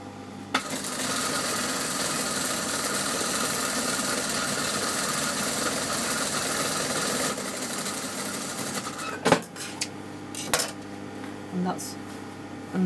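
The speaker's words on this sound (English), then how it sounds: "So now it's just basically sewing all the way up to the top." Sewing machine stitching a neck seam, a steady fast mechanical whir running for several seconds, then stopping, followed by scattered clicks and handling knocks, with a voice talking over it.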